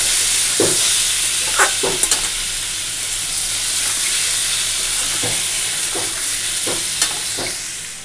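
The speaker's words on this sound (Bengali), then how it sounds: "এই পেঁয়াজ বাটাটা আগে দিয়ে দিলাম, একটু পেঁয়াজ বাটাটা ভেজে নিয়ে তারপরে মশলাটা দিয়ে দেবো।" Onion paste, added over partly fried potatoes, fries in a hot pan with a loud, continuous sizzle and hiss, broken by several sharp scraping taps of a stirring spoon.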